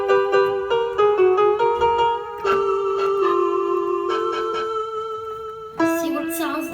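Notes on a Rock Jam RJ-661 electronic keyboard are played with a vibrato effect. Single tones and short runs hold and waver, ending in a brighter, higher held chord, loud and close with no talk.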